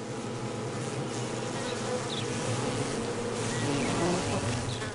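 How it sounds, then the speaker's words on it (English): Guard bees at a hive buzz in a dense, continuous drone, close and steady, with no voices. "This guy's a repeat offender, and the guard bees furiously bite at his legs."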